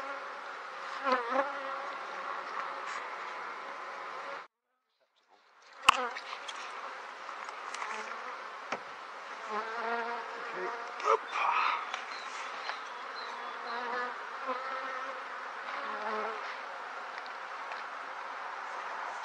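Honey bees buzz steadily around metal frames of a quadratic hive filled with honey, a dense continuous hum close by with a brief dropout partway through and no talking.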